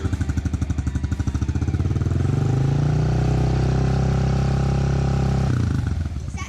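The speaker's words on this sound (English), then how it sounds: "Okay, the engine's warmed up," A Honda CRF110 motorcycle engine running during a cold warm-up, a loud, close, rapid thumping idle that rises into a steadier, fuller drone before dropping back to the choppy idle near the end.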